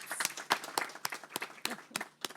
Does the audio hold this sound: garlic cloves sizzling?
no